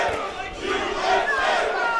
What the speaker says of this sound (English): Crowd chanting USA.